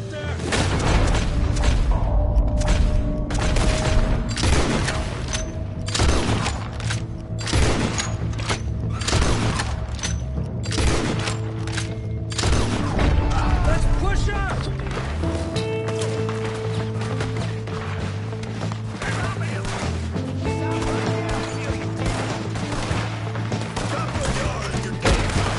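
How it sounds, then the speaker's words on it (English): Gunfight in the Red Dead Redemption 2 video game, with repeated rapid gunshots and heavy booms scattered throughout, set over game music and ambient noise, with occasional sounds of movement. "We're gonna have to shoot our way up there!"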